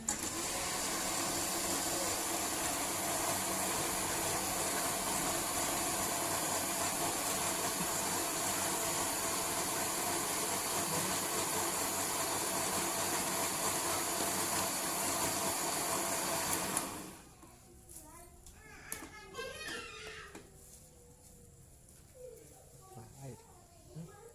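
Kitchen blender running with a loud, steady whirring drone that cuts off abruptly near the end, followed by quieter room sounds and faint voices.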